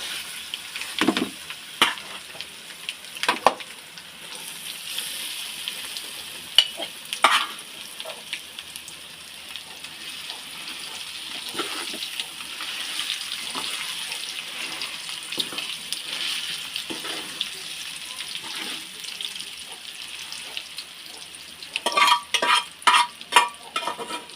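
Gongura leaves fry in a pan with a steady soft sizzle, broken by repeated scraping and clinking of a spoon as they are stirred. The stirring grows busier near the end.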